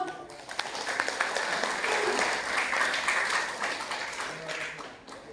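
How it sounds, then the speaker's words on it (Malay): Audience at a provincial Quran recitation competition in South Sulawesi claps after a performance, applause building over a second, staying full and even, then fading toward the close. "Beri tepuk tangan dong."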